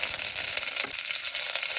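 Long-cut salad onion dropped into a hot pan for khichadi, a bright steady sizzle and crackle, close and continuous, with faint stirring.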